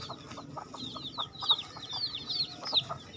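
Rhode Island hens cluck nearby in short repeated calls, with high chirping from chicks layered over them in a lively, uneven rhythm.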